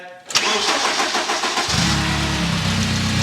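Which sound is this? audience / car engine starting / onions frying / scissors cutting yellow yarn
car engine starting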